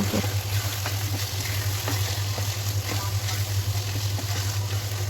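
Cut potatoes sizzle and fry steadily in a pan of spiced beef spleen bhuna, a continuous close hiss with occasional stirring clinks, no voices.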